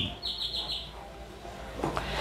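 A tame ekor lembu lovebird gives a quick run of four bright, high chirps close by, followed by a sharper burst of calls, over faint background hum.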